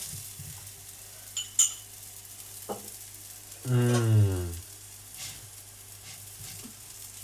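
Oil poured onto a ragi roti on a hot pan in a Mysore home kitchen sets off a loud sizzling burst that swells and fades over about a second, against a low steady hum and a few soft clicks.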